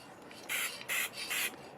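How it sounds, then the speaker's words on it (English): An acrylic spray can releases three short, hissing bursts in an even rhythm, close and fairly loud with quiet pauses between them. "I guess I could spray it like this"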